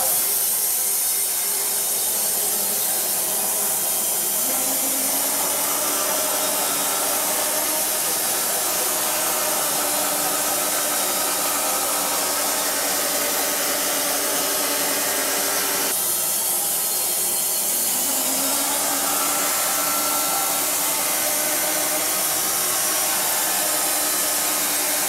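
A band saw slices lengthwise through a log to cut it into square 8×8 timbers, its self-sharpened and set blade giving a steady loud rasping whine that runs unbroken for the whole stretch, shifting slightly in pitch midway, with no voices.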